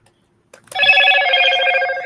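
After a short silence and a couple of faint clicks, a YouTube notification alert plays loudly as a sustained bright, bell-like chime tone that holds steady and slowly fades.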